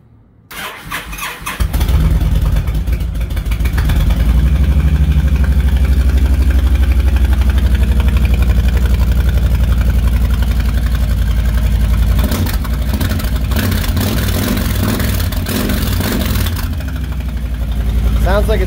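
A 2010 Honda Sabre motorcycle with its baffles removed starts up and settles into a loud, deep, rumbling idle that continues throughout, with brief throttle blips later on.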